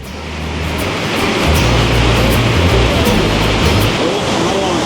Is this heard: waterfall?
yes